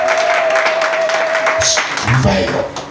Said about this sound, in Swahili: Piga makofi mengi kwa Yesu.